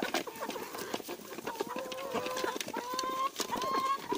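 Chickens eating jam with bread cluck and murmur close by, short repeated calls and pecking sounds over a quiet farmyard background, with no talking.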